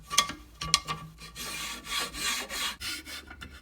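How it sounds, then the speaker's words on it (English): An old bandsaw cuts through wood with a steady rasping hiss, preceded by two sharp knocks, the cut swelling and fading in uneven surges close by. "Let's test it out on the old bandsaw."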